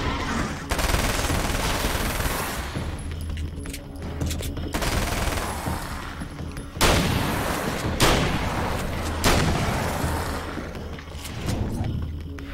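Gunfire in Alan Wake's American Nightmare, loud bursts of rapid shots and sharp single cracks repeating close up across the whole stretch, with no talk over it.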